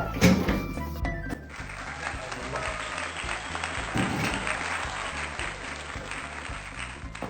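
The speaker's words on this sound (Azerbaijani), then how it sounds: "İndi sizin də alqışlarınızla onu bura dəvət etmək istəyirəm." A studio audience claps steadily to welcome a guest onto a talk show, a dense sustained round of applause that tapers slightly toward the end.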